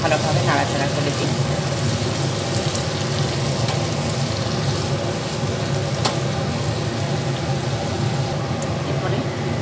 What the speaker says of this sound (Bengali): আবার একটু ভালোভাবে নাড়াচাড়া করে দিই।